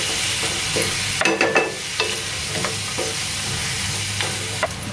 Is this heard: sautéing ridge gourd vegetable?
yes